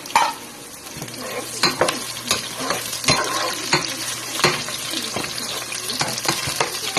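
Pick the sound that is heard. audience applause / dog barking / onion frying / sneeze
onion frying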